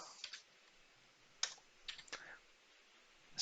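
Typing on a computer keyboard into a notepad program: a few short, faint clusters of light keystroke clicks separated by quiet pauses, with no talking.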